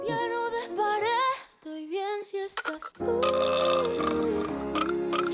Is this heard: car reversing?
no